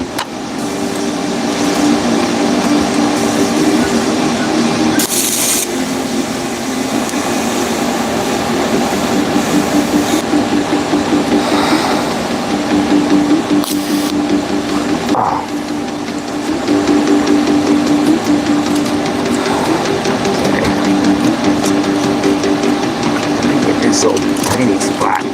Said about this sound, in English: one more of this weld on the bottom